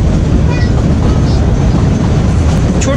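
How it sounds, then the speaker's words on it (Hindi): The Kalka–Shimla narrow-gauge toy train runs on its rails with a loud, steady rumble and rattle, heard close and continuous from on board throughout. "छोटी सी ट्रेन है, खिलौने जैसी"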